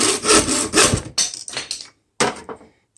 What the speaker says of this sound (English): So you come over here, get your hanger saw.